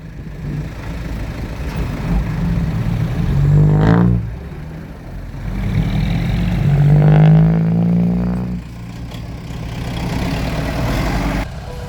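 Kubota 70 hp tractor engine working hard while pushing soil, a loud heavy diesel drone that swells twice with strained rising tones, close and continuous.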